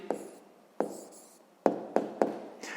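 A pen taps and scratches on paper while a sixth-grade maths answer is written down, five short sharp strokes spaced unevenly, close and fairly quiet.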